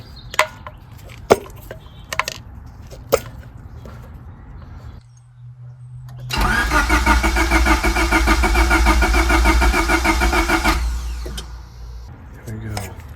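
A Honda Civic engine being cranked over, a few sharp clicks and clanks first, then a long steady loud churning drone of the starter turning the motor for several seconds before it cuts off.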